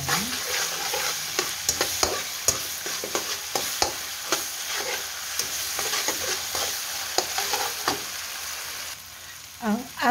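Tomato paste sizzles in a pan while a utensil scrapes and stirs through it in repeated strokes, the frying steady beneath the clatter.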